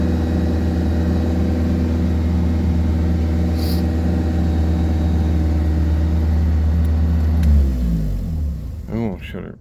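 1986 Chevy Chevette with a carbureted engine running at high idle, a loud steady harmonic drone that holds for several seconds, then drops and sputters down near the end.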